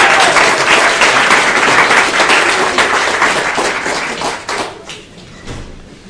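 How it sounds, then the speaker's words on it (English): Sustained applause from a colloquium audience welcoming a speaker, dense and steady clapping for several seconds that gradually thins and fades toward the end. "Let's give a round of applause to Terry."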